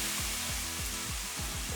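Bitter gourd and beans sauté with asafoetida in a pan: a steady sizzle runs throughout, broken by a regular series of scraping, stirring strokes from a spatula against the pan.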